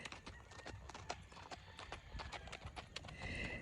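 Tennessee Walking Horse mare's hooves clip-clopping at a steady walk, close and distinct, with a brief whinny-like sound and faint background noise throughout.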